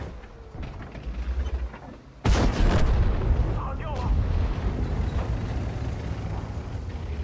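Tank cannon fire in the World of Tanks video game, with the Chinese WZ-132 light tank in the fight: one sudden loud blast strikes after a quieter stretch and rolls on into a long rumbling tail.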